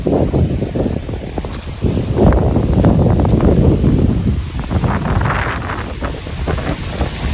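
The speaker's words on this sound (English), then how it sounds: "But it's going to be extremely windy out here" Strong wind roars across the microphone beside a high, swollen river, a loud, continuous gusting rumble that swells and eases without pause.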